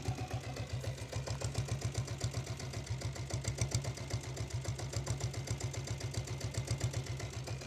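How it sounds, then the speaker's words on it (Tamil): A diesel Royal Enfield Bullet motorcycle fitted with a 7.5 HP self-start engine idles steadily, its rapid even thumping beat loud and close throughout with no voices. "வண்டி 7 HPயோட பீட்டு கேளுங்க ஃப்ரெண்ட்ஸ்."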